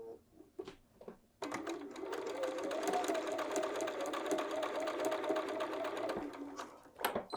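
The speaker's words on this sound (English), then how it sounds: "So just work across until all of your strips are sewn together." Sewing machine running steadily for about five seconds as bias binding strips are stitched together end to end, a continuous close mechanical whir with soft handling noises before and after.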